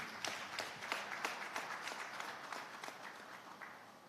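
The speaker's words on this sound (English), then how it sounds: "can we please give Mrs. Zokai a round of applause?" Audience applause at a climate change summit in Lagos: a room of hands clapping steadily for about four seconds, fairly faint and distant, gradually tapering off.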